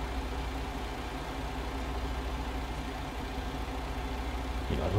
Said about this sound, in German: Die lassen die Motoren auch laufen